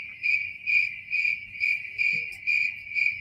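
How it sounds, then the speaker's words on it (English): Crickets chirp outdoors in a steady rhythmic pulse, about two trills per second, clear and fairly close over a faint low background. "Is that crickets?"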